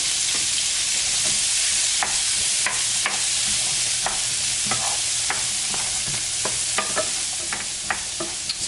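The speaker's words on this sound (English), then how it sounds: "we're gonna go right in with our onion and garlic mixture, straight into the pan" An onion and garlic mixture for butter chicken sizzles steadily in a hot pan, with a constant hiss broken by sharp clicks and scrapes from stirring.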